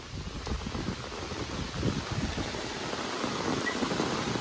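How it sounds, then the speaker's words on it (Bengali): Rain falls steadily outdoors in a rural village, a dense, continuous patter with some gusty wind noise on the microphone and no speech. "তাহলে বৃষ্টি পড়তেছে"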